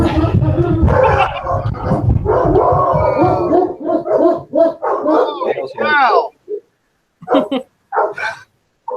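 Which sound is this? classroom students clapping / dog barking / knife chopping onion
dog barking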